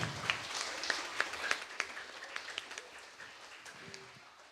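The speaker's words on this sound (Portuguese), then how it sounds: "Vamos aplaudir a professora Rosana." Students at a school youth council event applaud a teacher with soft, distant clapping from a small group. A few sharper claps stand out before the applause thins and fades.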